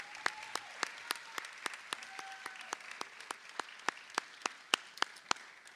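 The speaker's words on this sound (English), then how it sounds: "let's give them a well-deserved round of applause." Scattered applause from a livestreamed show audience, honoring the volunteers: sharp individual claps in a steady, uneven patter, fairly quiet and somewhat distant, with no talking.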